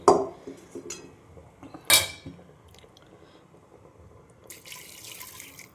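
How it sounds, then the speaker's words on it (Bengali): Hot water splashes and swirls inside a kadai, a wok used for cooking mutton curry, with a few sharp bursts of pouring and scraping metal between quieter dripping and rinsing. "এবারে আমি দিচ্ছি, এটা গরম জল দিলাম আমি"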